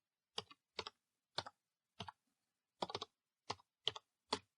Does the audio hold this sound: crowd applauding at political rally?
no